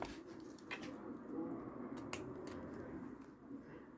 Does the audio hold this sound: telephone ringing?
no